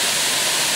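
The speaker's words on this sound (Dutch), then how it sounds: "Vandaag beklimmen wij de waterval." A waterfall in Thailand pours in a steady, loud broadband rush, close and continuous over a short stretch, with no voices.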